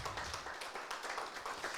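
A church congregation claps during a Spanish-language worship service, a dense, steady patter of many hands at moderate distance lasting the whole moment.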